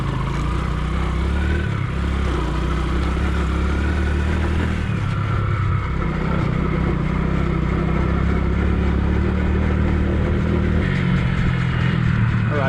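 A loud, continuous engine drone with shifting pitch from a bike with no suspension being ridden hard over rough ground, steady throughout with no talking.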